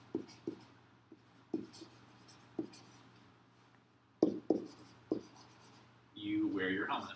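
A pen or pencil writes notes by hand in short, separate scratchy strokes at close range, with a faint steady hum underneath and a louder burst of scribbling at the end.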